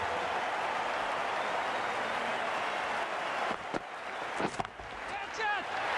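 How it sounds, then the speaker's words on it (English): Crowd noise from a Pakistan vs New Zealand T20 cricket video game roars steadily as a dense, sustained cheer, then thins out near the end into scattered shouts and claps. "It's going to be hard for the bowler to focus with the crowd this excited."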